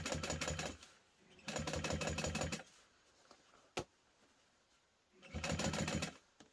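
A sewing machine stitches along a zipper seam on a portable console case, running in three rapid, close bursts of mechanical chatter separated by quiet pauses and one single sharp click.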